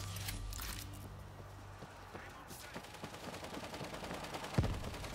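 Gunfire in the video game World War Z: a rapid run of shots that rattles on for several seconds, with one louder crack near the end.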